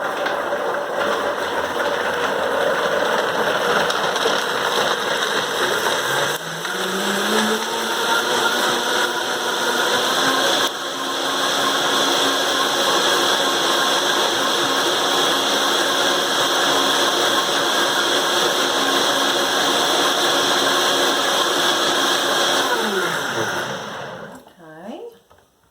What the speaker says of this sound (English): So we're going to use our Vitamix here.